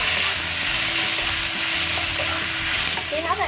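Steady, dense sizzling of eggplant frying in hot oil, close and loud throughout, with faint clinks of stirring near the end.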